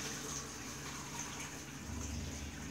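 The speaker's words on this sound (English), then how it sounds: "So I just got the strainer there. Put the brine right in there like this." Liquid brine for smoked chicken pours steadily through a strainer, a continuous soft gushing and trickling of water that runs unbroken for the whole stretch, fairly quiet and close.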